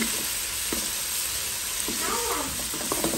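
Vegetables frying in a pan, a steady broadband sizzle with occasional stirring clatter, close and continuous, with a faint voice briefly in the background.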